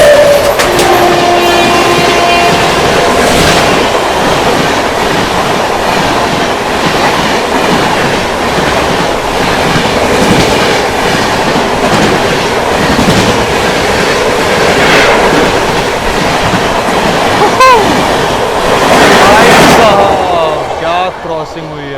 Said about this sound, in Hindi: फ्लैट व्हील साउंड सुन रहे थे